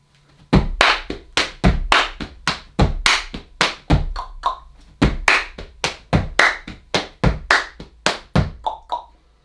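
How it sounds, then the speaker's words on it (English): Sharp hand claps ring out in a steady rhythmic pattern, grouped in repeating phrases, loud and close with no talking. "because those last two claps"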